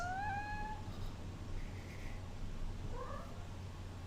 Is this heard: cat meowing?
yes